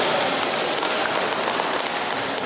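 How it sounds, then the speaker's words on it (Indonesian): An indoor audience at a district government planning meeting applauds steadily, a dense even wash of many hands clapping that holds for the full stretch without pause. "Boleh tepuk tangan"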